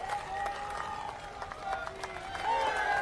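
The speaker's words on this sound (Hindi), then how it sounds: "ताली बजाइए, पूरी तरह से खड़े होकर के" Crowd at an election rally in Jasol applauding, a dense steady wash of clapping and cheering that swells slightly toward the end, with a voice over a loudspeaker faintly audible.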